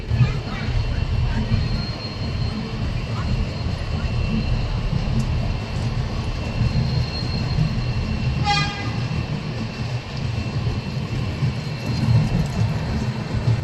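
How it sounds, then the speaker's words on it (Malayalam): A steady, loud rumble of the Erode–Jogbani Amrit Bharat Express rolling along the rails after leaving Erode station, with a continuous low roar and a brief metallic squeal partway through. "ഈ ട്രെയിൻ ഇപ്പോൾ ഇതാ ലേറ്റ് ആയിട്ട് ഈറോഡ് റെയിൽവേ സ്റ്റേഷനിൽ ഇപ്പോൾ പുറപ്പെട്ടിട്ടുള്ളത്"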